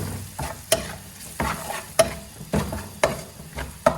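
Cinnamon, cardamom and bay leaves sauté in hot oil, a soft sizzle broken by regular stirring strokes roughly every half second, close and clear with no talking.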